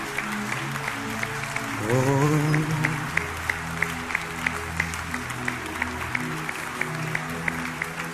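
A church congregation applauds and acclaims Jesus during worship, steady crowd clapping running throughout with a brief swell of cheering voices near the start, moderately loud and fairly close.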